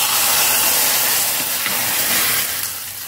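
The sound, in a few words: hot rasam being poured, sizzling and hissing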